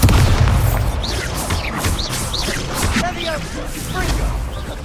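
Expulso explosion spells from the Hogwarts Legacy game during a Defence Against the Dark Arts class duel, loud booming blasts and whooshing spell effects in rapid succession while a voice keeps shouting spell names over them.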